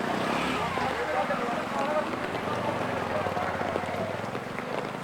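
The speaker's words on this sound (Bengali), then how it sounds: "হ্যাঁ বৃষ্টি কিছুটা কমছে।" Monsoon rain pours steadily onto a hill market street, a dense continuous hiss with some low rumble underneath, loud and close throughout.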